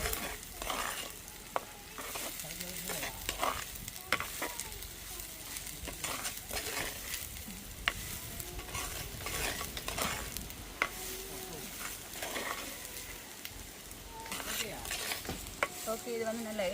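Beetroot stirred and fried in oil in a pan, a steady close sizzle running throughout with repeated scraping strokes of a spoon, no voices.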